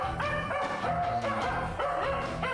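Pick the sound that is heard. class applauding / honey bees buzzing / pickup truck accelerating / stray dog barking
stray dog barking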